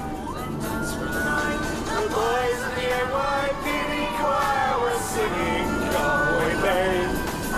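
An emergency vehicle siren wails, rising and falling over traffic noise, with people talking and jingly Christmas music mixed in underneath.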